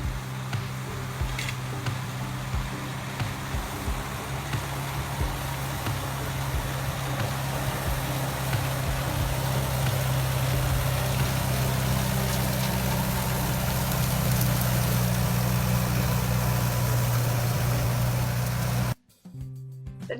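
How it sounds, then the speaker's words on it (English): A tractor pulling a hay tedder across a hay field, its engine a steady, close, low rumbling drone that runs almost unbroken before cutting off abruptly near the end. "The tedder stirs the hay up and fluffs it around so that it will dry faster."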